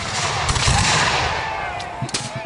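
A musket volley in an American Revolution reenactment on an open field: a loud, close crack of several muskets fired nearly together, followed by a second burst of scattered shots near the end.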